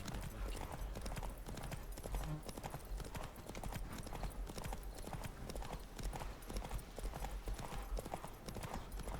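Horse hooves gallop in a rapid, steady clip-clop rhythm during a horse race in The Witcher 3: Wild Hunt, fairly quiet and continuous, with a brief whinny and faint game sounds around it.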